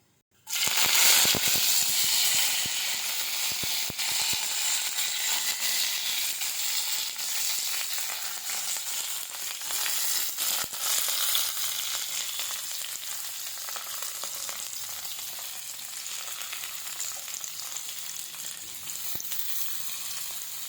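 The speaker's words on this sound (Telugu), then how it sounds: "1 టేబుల్ స్పూన్ పోపు దినుసులు వేసానండి." Tempering spices hit hot oil in a pan and burst into a loud, dense sizzle that starts suddenly, then settles into steady crackling frying with scattered pops for about twenty seconds.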